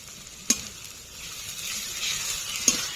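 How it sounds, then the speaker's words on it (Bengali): Ginger garlic paste sizzles in hot oil for a spicy mutton and potato curry, a steady hiss rising slightly, punctuated by two sharp spatula clanks against the pan, with no one talking. "আদা রসুন দিয়ে কিছুক্ষণ নেড়ে নিয়েছি"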